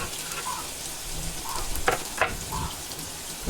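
Chopped garlic and green chilies sautéing in hot oil with spluttering mustard seeds, a soft continuous sizzle broken by a few sharp pops and crackles, close and moderately quiet.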